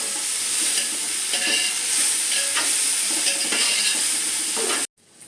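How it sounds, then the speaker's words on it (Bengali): Chopped tomatoes and onions fry in a pan for chicken polao, giving a steady close sizzle with occasional stirring scrapes, until it cuts off abruptly near the end. "আমি এতে টমেটো কুচি দিয়ে দিলাম আমি দুটো মিডিয়াম সাইজে টমেটো কুচিটা নিয়েছি এটাকে একটু ভাজা ভাজা করে নেব"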